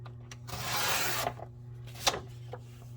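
Card stock is trimmed with a paper cutter for a handmade embellishment book border, giving a brief rasping slide of the blade followed by a couple of light taps and clicks, close up and quiet over a low hum.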